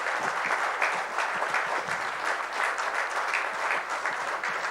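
Steady, dense applause from a large audience at a bravery awards ceremony at ITC Grand Chola, Chennai, loud and continuous throughout with no talking over it.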